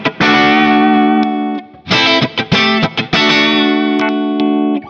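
A 7-string Roamer electric guitar through its humbucker pickup rings out in sustained, effected chords with a few short choppy strums in between, loud and up close, with no voice.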